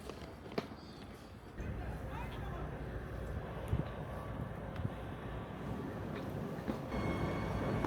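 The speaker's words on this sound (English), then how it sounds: "Our train will be pulled by these two TE116UM diesel locomotives." A passenger train pulled by two TE116UM diesel locomotives rumbles steadily with low, continuous rail noise and occasional clanks, heard from nearby at moderate level.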